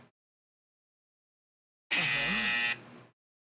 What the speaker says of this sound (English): This video's titled Extremely Loud Incorrect Buzzer